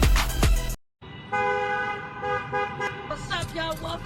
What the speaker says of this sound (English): And we still in traffic.